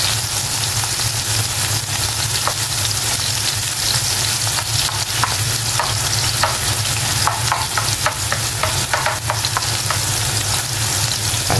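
Ingredients being sautéed in a pan for a Filipino home-cooked dish, giving steady loud sizzling and frying with occasional stirring scrapes and clicks, close up and without talk.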